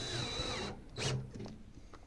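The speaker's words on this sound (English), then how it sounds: "I'll put a couple screws in just to put everything together, hold it together tight." Power drill driving screws through a small end plate while converting a half bath to a full bath, a close whirring burst that stops, followed by a second short spin and faint handling noises.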